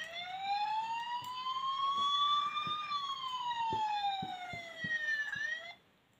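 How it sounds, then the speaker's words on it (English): A Bruder toy light and sound module plays its fire engine siren, a loud electronic tone that sweeps slowly up and down for about six seconds before cutting off, with faint clicks underneath. "Here we've got the fire E siren."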